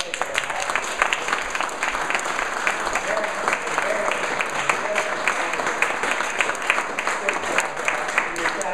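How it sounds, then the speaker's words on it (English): An audience at an event applauds in a sustained, even wash of clapping, with crowd murmur and some voices under it, steady throughout. "can we just have a round of applause for these guys?"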